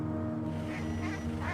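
Ducks in a mountain village quack steadily and close by, a dense continuous chorus of honking calls over low background rumble.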